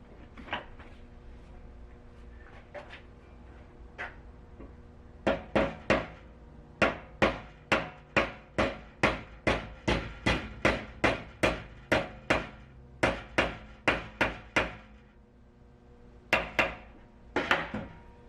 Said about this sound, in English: Then I will finish it by tapping it down with a hammer.